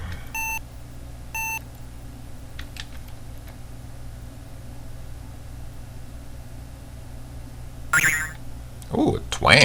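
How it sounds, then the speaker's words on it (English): Electronic beeping from Space Quest 2 on an Apple IIgs, two short pulsed tones early on, then sparse soft game effects and a burst of chirpy synthetic sounds near the end, with a quiet background hum. "get away from this beeping sound"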